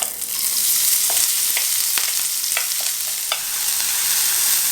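Green onions frying in sesame oil in a pan, a loud steady sizzle with occasional light clicks of stirring, no voices.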